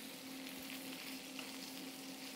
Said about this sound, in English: So you can see how I'm basting my cabbage like that, right?